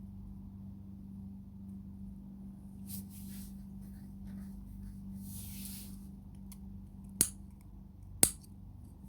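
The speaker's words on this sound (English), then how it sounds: "So from here, I'll just cut the excess and burn." Scissors snip excess thread from a handmade crochet bead hoop earring, with two sharp, close clicks near the end over a quiet, humming room.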